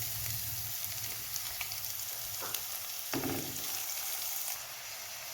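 Chopped medium-size onion frying in a pan with cloves, garlic and cumin, a steady soft sizzle and crackle with a few stirring clatters, close and fairly quiet.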